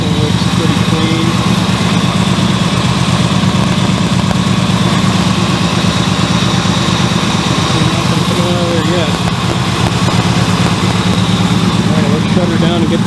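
A carbureted Corvette engine idles loud and close in a steady, continuous low rumble with a fast, even pulse throughout, and brief talk over it.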